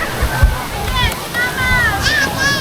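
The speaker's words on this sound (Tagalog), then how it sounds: "tapos ayun yung mismong waterfalls" Bolinao Falls in Pangasinan pours with a constant rushing splash, loud and close, while voices talk and call over it.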